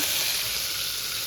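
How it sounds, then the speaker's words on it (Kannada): Tempering spices crackle in hot oil for a beetroot sambar, a dense, continuous and fairly loud sizzle close by with no pauses and no voices. "ಚಟ್ಪಟ್ ಸಿಡಿಬೇಕು, ಚಟ್ಪಟ್ ಚಟ್ಪಟ್."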